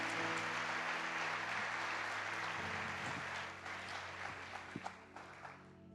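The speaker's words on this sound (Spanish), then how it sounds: "Denle un aplauso al Señor, porque así es nuestro Dios." A church congregation applauds God during a worship service, a dense sustained wash of clapping that fades toward the end over a low background hum.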